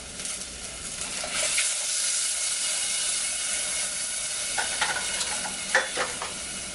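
Half a cup of boiling water added to a pot of cooking rice for jerk chicken wings sizzles and hisses loudly and steadily, with faint stirring clinks and a few bubbling pops.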